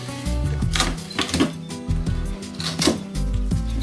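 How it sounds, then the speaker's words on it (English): A clothes dryer vent pipe is pulled loose from the wall, giving a dense run of loud metallic rattles, scrapes and clanks, close up and continuous throughout. "What we're going to do is disconnect the dryer pipe from the wall."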